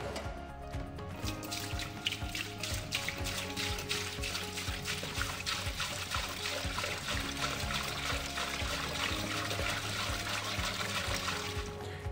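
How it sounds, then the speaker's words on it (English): Water is poured steadily into the open lid of a Quantor MiniChilly SB-Comp glycol chiller, making a continuous bubbling trickle at an even level with no speech. "To fill up the unit with water, you have to open the lid"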